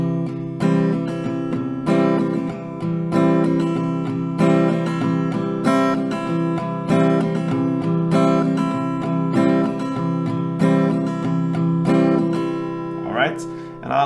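An acoustic guitar strums a steady down-and-up pattern, repeating the same rhythm over several rounds, close and bright, with a brief noise near the end.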